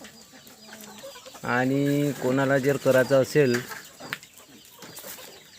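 Country chickens cluck and squawk loudly close by at a poultry farm, a burst of repeated calls over a few seconds, with someone speaking briefly before and around them.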